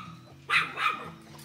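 A small dog gives two quick, sharp barks close by, a short gap between them, with faint background noise around.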